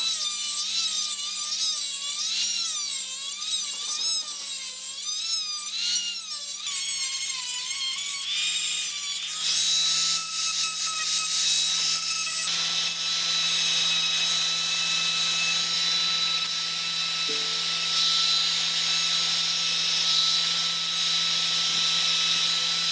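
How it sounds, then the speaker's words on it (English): An old Craftsman rotary tool with a small stone grinding wheel grinds intake manifold gasket material, a steady high-pitched whine with rough grinding texture that shifts in pitch as the load changes, close and continuous throughout. "but a little stone grinding wheel"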